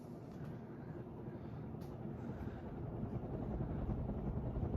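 A 1935 Emerson Roundnose 56-inch ceiling fan running on low speed, a faint steady motor hum and airy whir, slowly swelling a little louder over several seconds.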